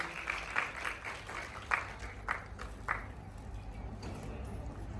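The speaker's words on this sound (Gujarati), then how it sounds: "ચલો જોરદાર તાળીઓથી આપણે એમને વધાવી લઈએ અને આજની સભાની અંદર એમનું સ્વાગત કરીએ." Audience applause welcoming a guest at a gathering in a cinema hall, a soft distant patter of clapping with a few louder bursts, continuing steadily.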